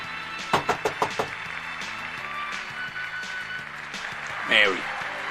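A burst of about five sharp knocks on a door, fairly close, in a 1986 Christmas film, followed by a quieter stretch with music and room sound.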